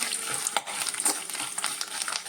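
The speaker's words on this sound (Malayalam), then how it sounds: "നല്ലോണം എല്ലാം ഒന്നിച്ചങ്ങ് വറുത്ത് വരാം." Steady crackling sizzle of leaves and chillies frying in oil, with a few sharper pops and light stirring scrapes throughout.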